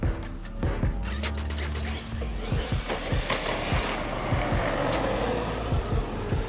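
An upgraded Arrma Outcast 8S 1/5 scale RC car runs at half throttle, its electric motor whining loudly and continuously with rising and falling pulses as it accelerates, close by with constant rumbling.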